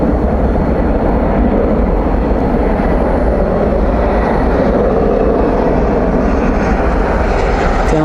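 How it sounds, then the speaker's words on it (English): An Air Canada Airbus A220 arrives at DFW airport at night, its engines making a loud, steady jet roar that holds for the whole stretch without any talk. "Third Air Canada A220. A220 arriving here on the west."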